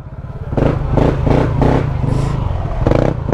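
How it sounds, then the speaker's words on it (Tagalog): A motorcycle engine rumbles close by in uneven, pulsing bursts as the bike is moved into a parking spot, with some clatter underneath. "Pwede rin park ang motor dre."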